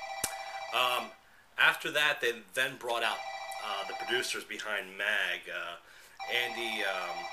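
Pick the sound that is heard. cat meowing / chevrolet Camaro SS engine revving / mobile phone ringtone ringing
mobile phone ringtone ringing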